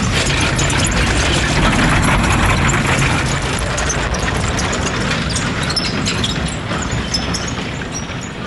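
Modern engine of a German-made Stag 3 military vehicle running steadily, a loud continuous broadband drone with a low rumble that eases slightly toward the end.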